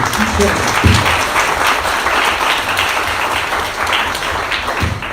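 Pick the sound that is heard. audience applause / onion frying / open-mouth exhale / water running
audience applause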